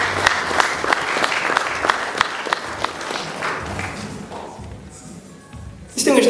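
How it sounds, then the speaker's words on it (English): Guests at a testimonial dinner applaud in a hall, with dense clapping and a few louder claps for about four seconds. It then thins and fades, leaving soft room murmur and a brief burst of noise near the end. "I pause that you may applaud."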